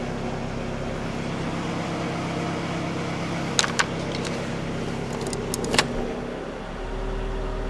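A Ford Focus engine idles with a steady low rumble and faint rattling, with a few sharp metallic clicks partway through.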